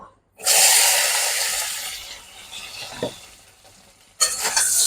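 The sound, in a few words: taro frying with salt and turmeric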